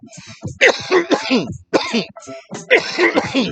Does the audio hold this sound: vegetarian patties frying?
no